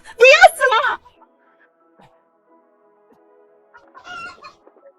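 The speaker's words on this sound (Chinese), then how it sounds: "这2只鸡长得一模一样" Two roosters give a short burst of loud, close clucking and squawking. A quiet pause follows, then a fainter cluck.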